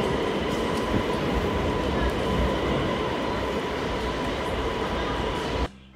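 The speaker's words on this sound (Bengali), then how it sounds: "এটা হলো ট্রেন। ট্রেনকে ইংলিশে বলে ট্রেন।" A train rumbles steadily with a broad, continuous roar and faint rail noise, fairly loud and close, cutting off abruptly at the end.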